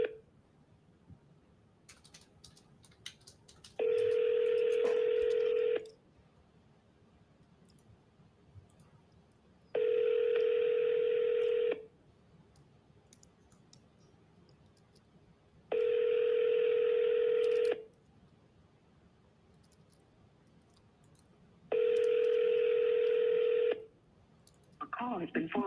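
A telephone call rings out in four evenly spaced long ringback tones, each about two seconds with pauses between, over quiet background with faint clicks.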